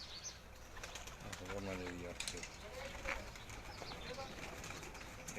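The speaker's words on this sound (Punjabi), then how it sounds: "ਇਹ ਜੀ ਸ਼ਰਮੀਲਾ ਕਬੂਤਰ ਹੈ" Pigeons coo softly in low, rolling calls, with a person talking over them and faint background noise throughout.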